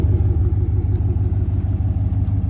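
A Jeep Gladiator with a swapped 392 V8 runs at a steady idle, giving a deep, close, pulsing low rumble with a light rhythmic throb and no talk.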